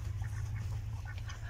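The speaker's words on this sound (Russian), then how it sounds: "Утка крякает громко, кря-кря. А селезень вот так вот приглушенно." Soft, muffled quacks from a drake duck repeat several times at close range over a steady low rumble.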